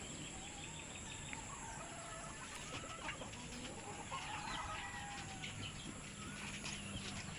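Chickens kept in a fenced area cluck softly and sporadically at a distance, faint calls scattered over a constant outdoor background hiss, with no talk.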